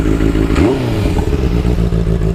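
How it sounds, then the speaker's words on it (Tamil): Benelli 600i motorcycle exhaust up close, a loud, deep, throbbing roar with a quick rev that rises and falls early, then settles back to a steady rumble. "ஸோ இதுதான் வந்து வண்டியோட எக்ஸாஸ்ட் சவுண்டு."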